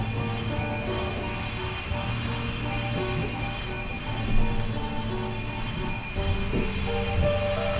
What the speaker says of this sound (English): So we've arrived in town, the train has stopped.